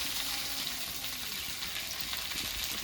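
Chopped tomato hits a hot pan of ginger and dried red chilli paste, giving a steady, close sizzle and frying hiss with no talk.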